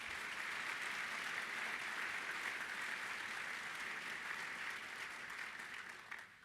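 Sustained audience applause at a bowling association convention's annual meeting, steady and full for several seconds before tapering slightly at the end, with no talk over it.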